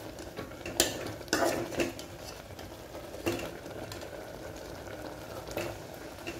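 Kumudi keerai greens sizzle quietly in a pan while a utensil scrapes and stirs a few times, giving soft clinks over the steady frying hiss.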